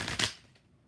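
Quick riffle of tarot cards being shuffled, two short crisp bursts close to the microphone, fading out within a second.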